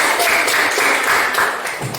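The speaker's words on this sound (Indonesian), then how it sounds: "Tepuk tangan untuk kelompok 1" Pupils in an elementary school classroom at SDN 3 Mrayan give a short burst of lively clapping for the first discussion group, close and fairly loud, lasting only a couple of seconds.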